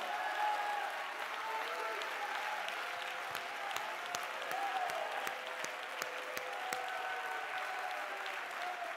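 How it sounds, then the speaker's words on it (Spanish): During a Spanish-language church sermon the congregation breaks into sustained applause, brisk overlapping claps over soft held musical tones and faint crowd noise. "dale un fuerte aplauso a Él"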